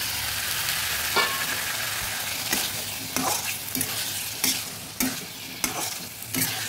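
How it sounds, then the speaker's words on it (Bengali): Boiled kabuli chickpeas are stirred into frying masala in a pan, a steady sizzle running throughout with repeated scraping strokes of the spoon at irregular intervals, close and fairly loud, with no talking. "মশলার মধ্যে ছোলাগুলো ভালোভাবে মিশিয়ে নিচ্ছি।"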